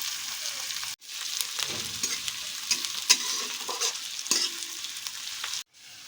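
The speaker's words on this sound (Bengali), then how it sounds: "এবার এটাকে ভালো করে ভাজতে হবে, পেঁয়াজটাকে ভেজে নরম করতে হবে।" Sliced onions fry in hot oil and are stirred in a pan with a spatula, a constant close sizzle broken by scraping strokes and a couple of brief pauses.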